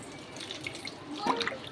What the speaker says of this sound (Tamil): ரெண்டரை கப் தண்ணி ஆட் பண்ணியிருக்கேன்